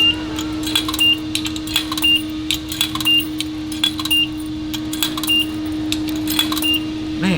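Quarters clink one after another into a coin-operated car wash machine, a rapid series of metallic ticks and jingles over a steady electrical hum, with a short beep tone repeating in the background.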